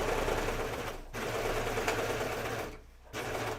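A serger overlock machine stitches and trims along a fabric edge, a fast mechanical chatter running steadily with two brief pauses, close and fairly quiet.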